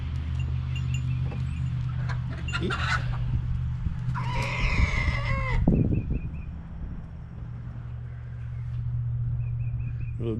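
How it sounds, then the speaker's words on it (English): Old, colorful farmyard rooster gives one loud, drawn-out crow in the middle, with brief clucks around it over a steady low hum of farm background noise. "And here's the old rooster."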